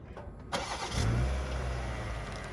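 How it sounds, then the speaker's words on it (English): A 2021 BMW X5 engine starts remotely from the key fob with a sharp crank, then settles into a steady, close idle rumble, and nobody talks. "I've already set it up so when you press it 3 times, it will start the car."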